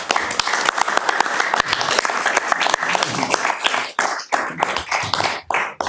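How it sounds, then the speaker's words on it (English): An audience at a city council meeting claps for city representatives. The applause is dense and vigorous, with close individual hand claps standing out, and thins toward the end. "we want to give you a round of applause for representing our city well."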